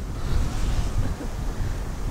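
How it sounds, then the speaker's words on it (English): Strong wind rumbles and buffets the microphone continuously, a deep, steady roar with surf-like rushing. "It's very windy today and it's very cold."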